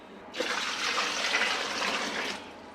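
Cold water pours into a container for a pork chop brine, a smooth rushing splash that starts abruptly, runs steadily for about two seconds close by, then stops.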